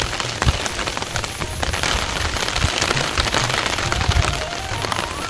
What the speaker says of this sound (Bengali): আজ সকাল থেকেই একভাবে বৃষ্টি হচ্ছে,